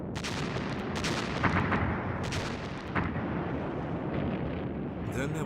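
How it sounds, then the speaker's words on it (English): A World War II Soviet artillery bombardment roars as a dense, continuous rumble of heavy blasts and booms, loud and sustained throughout, with scattered sharper bursts layered on top. "Then there was a devastating artillery bombardment."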